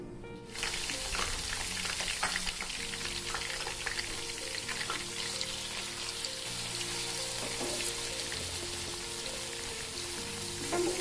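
Potatoes frying in a pan for a masala paneer dish, a steady, dense sizzle that starts abruptly and carries on evenly at close range, with no talking.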